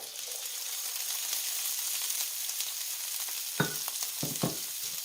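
Cauliflower rice sizzles quietly in a pan with salt and cayenne, a soft steady hiss, then corn drops in with a few close, sharp splattering bursts near the end.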